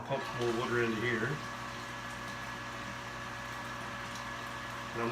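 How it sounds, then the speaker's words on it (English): A pump pushing more hot water into a mash tun of grain during home-brewing of a farmhouse lavender ale, a steady low mechanical hum with churning water, plus a short burst of warbling noise near the start. "So I'll pump some more water into here."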